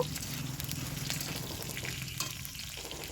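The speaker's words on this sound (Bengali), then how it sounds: "পেঁয়াজটা ব্রাউন কালারে না হওয়া পর্যন্ত এটাকে ভাজবো" Chopped onion and other ingredients frying in a pan, a constant close sizzle with occasional stirring scrapes throughout, no voices.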